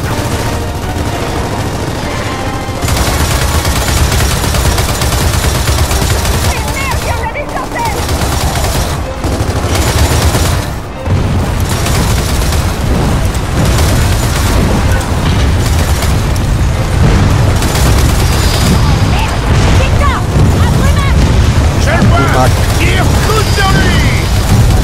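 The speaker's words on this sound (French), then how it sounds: "Ok, que quelqu'un prenne cette tourelle et m'arrose tout ça!" Sustained turret gunfire in Gears of War 4, a loud dense roar of rapid shots and booming impacts running almost without pause, with a voice talking over it.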